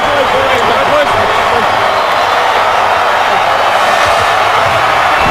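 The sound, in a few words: stadium crowd giving a standing ovation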